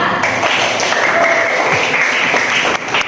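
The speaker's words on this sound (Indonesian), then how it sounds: "Cepat beri tepuk tangan yang meriah kepada kelompok 4" Applause for group 4 rises from an audience at a class presentation, a dense, steady wash of many hands clapping close by for about three seconds.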